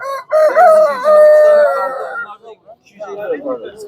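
A rooster crows loudly and close by at a poultry market in Tuzla, Istanbul, followed by softer clucking from chickens.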